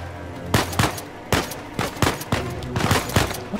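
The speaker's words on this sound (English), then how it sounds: "What are you guys shooting at?" Gunfire in the video game Uncharted 4, several loud close bursts of shots in a rapid, uneven sequence over a steady background, with no talk.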